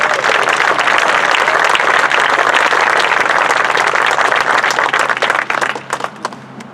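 Sustained applause from an outdoor dedication crowd for a new housing development as the mayor is welcomed, steady loud clapping that thins into scattered claps near the end.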